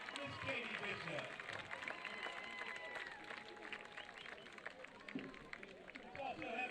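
A college football crowd at Mississippi College versus North Greenville claps and cheers for the 2023 homecoming queen. The applause is fairly distant and steady, mixed with crowd chatter.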